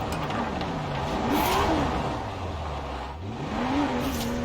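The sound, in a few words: race car drifting in third gear, video game with Thrustmaster TMX wheel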